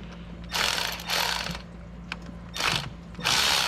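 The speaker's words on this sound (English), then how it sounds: "So right under the hose, there's gonna be a 10 millimeter bolt." A ratchet works a 10 mm bolt beneath a hose on a 2012 Fiat 500 during a thermostat replacement, with several short bursts of clicking, close and fairly loud, separated by brief pauses.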